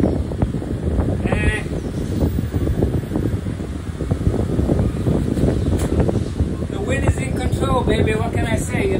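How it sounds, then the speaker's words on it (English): A strong windstorm roars across the microphone outdoors in a continuous low, buffeting rumble that never lets up, with a voice faintly present beneath it. "And look at the wind."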